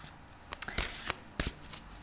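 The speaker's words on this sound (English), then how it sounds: "I will just start to shuffle as I talk" Quiet riffling and snapping bursts of a deck of cards being shuffled, several quick flutters in irregular succession, close by with no talking.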